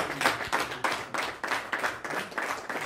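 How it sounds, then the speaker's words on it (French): Shepherds applauding good news, a group clapping in a dense, steady rhythm of bursts, fairly close and alone. "C'est les bergers qui ont applaudi cette bonne nouvelle"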